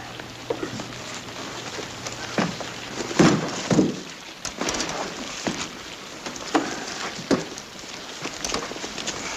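Heavy rain pours steadily, a constant hiss with scattered thuds and clatters of drops hitting surfaces nearby, and no talk over it.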